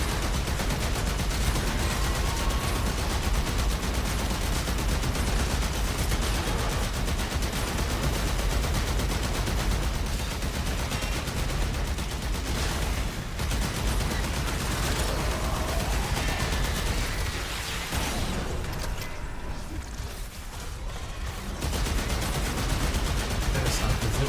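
Video game gunfire pours out in dense, continuous bursts of rapid shots and explosions, loud and unbroken for the whole stretch, with only a brief dip near the end.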